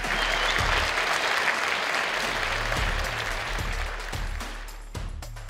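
A live audience at a FuckUp Nights event in Riga bursts into dense, steady applause to welcome a speaker to the stage. The clapping stays loud and continuous, then thins slightly toward the end.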